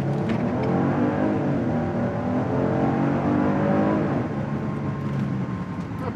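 A 2021 Genesis GV80 SUV accelerating hard from a standstill, its engine note climbing steadily and loud and close, heard alone with no talk over it.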